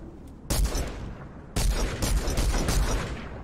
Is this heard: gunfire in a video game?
yes